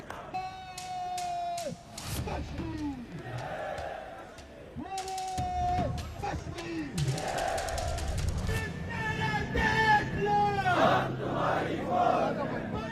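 Loud protest crowd on the streets of Pakistan-occupied Kashmir, with massed shouting, chants and cries rising and falling continuously throughout, dense and close.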